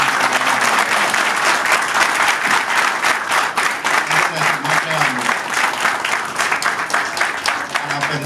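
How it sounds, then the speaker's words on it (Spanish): Crowd at a Dominican PRD party assembly claps enthusiastically, a loud, dense, continuous round of applause with rhythmic bursts and some voices murmuring underneath. "Yo quiero que un aplauso a ese PRD,"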